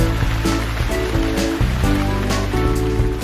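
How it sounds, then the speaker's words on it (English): Water poured over young crop plants during a farm tour, a steady rushing splash that runs throughout, with a layer of background music underneath. "let's take the water and let's give them some water"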